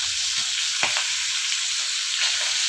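Fish frying in hot, splattering oil gives a loud, steady close-up sizzle, with a couple of brief pops and a light scrape partway through; no voices.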